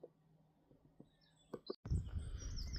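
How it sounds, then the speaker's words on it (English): Birds chirp and tweet at Jackhouse Nature Reserve in Oswaldtwistle, Lancashire, with faint scattered calls over quiet outdoor ambience before a louder rustle of wind or handling noise takes over. "Listen to the birds sound around here."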